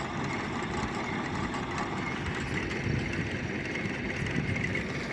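An old, near-antique farm tractor engine runs steadily at a constant idle on a hay field, a continuous low rumble that stays even and loud throughout, with no talk over it.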